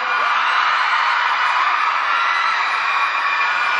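A large crowd of fans at a Super Junior press conference in Thailand screams and cheers continuously at high volume, a dense wall of shrill voices with no pauses.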